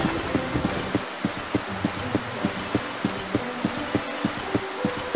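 Horse hooves trotting during a dressage test at a horse trials event, a steady, even rhythm of clear, close hoofbeats with nothing else competing.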